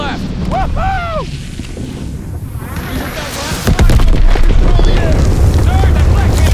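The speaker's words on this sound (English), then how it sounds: "Sir, that flak gun's targeting us!" A flak gun firing in the Call of Duty WWII Stronghold mission, heavy booming blasts that thicken into a loud rumbling barrage, mixed with wind noise and shouted voices in the game.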